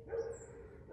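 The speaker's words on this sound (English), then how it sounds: "Probably those dogs you hear." Hunting dogs bark faintly in the distance on a plantation hunt: one short, soft burst of barking in an otherwise quiet outdoor scene.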